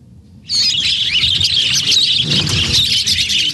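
A dense, loud chorus of many caged birds chirping and squawking all at once inside a small minibus, continuous and close, with a low rumble underneath.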